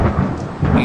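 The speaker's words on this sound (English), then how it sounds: "Even though the following morning was stormy and foul" A heavy roll of thunder on a stormy, foul morning in a Harry Potter Prisoner of Azkaban video game, a loud, close, continuous rumble with a hint of rain, brief and without any voice.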